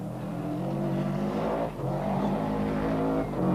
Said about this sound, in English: The rally leader approaches the McClafferty clan's property at high speed